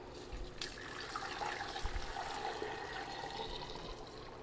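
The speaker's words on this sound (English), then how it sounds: "So I'm putting 8 cups of water back in." Water pours steadily into a Nesco electric pressure canner, a continuous splashing gush at moderate volume with no voices.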